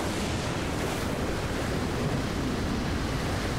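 In a cartoon storm, waves and wind make a dense, constant roar of surf and gusting air, loud and unbroken throughout with no voices.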